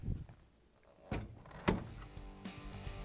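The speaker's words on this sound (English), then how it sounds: "Now we can close the door." A Whirlpool dryer door swings shut with a soft thunk and latch click, followed by a faint rattle, close by.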